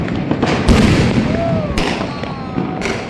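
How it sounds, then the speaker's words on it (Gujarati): Distant Diwali sky shot fireworks burst in a few sharp cracks and thumps, with faint whistles rising between them over a steady outdoor background. "જો બધા સ્કાય શોટ જ છે મંથન."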